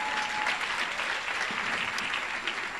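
A church congregation applauding in praise, a full steady wash of clapping from many hands, close and continuous with no break.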